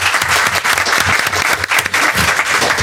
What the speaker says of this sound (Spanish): le vamos a dar un aplauso a todos los ponentes,